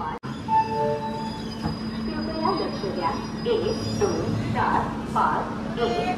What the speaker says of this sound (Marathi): ही आपली ट्रेन.